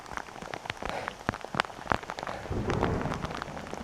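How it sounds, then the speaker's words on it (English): Heavy rain drums on a surface in the Yorkshire Dales, England, with a low rumble of thunder rolling underneath in the second half. "There's thunder as well."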